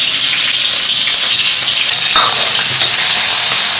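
Homemade hot pot base stir-fries loudly in oil, a dense, continuous sizzle with a brief scrape of the spatula partway through and no talking.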